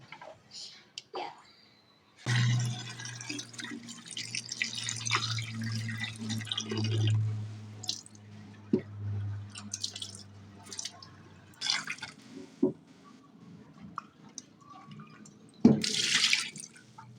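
Fresh farm vegetables, including green pepper, washed in water, with running and splashing water, dripping and handling noises in bursts, while a voice speaks softly over parts of it.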